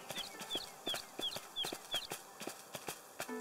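Birds in the video game Atma give a steady series of short, clucking chirps at an even rhythm over soft background game ambience.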